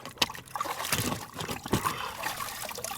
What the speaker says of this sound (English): now I'm just gonna rinse in here just the receiver.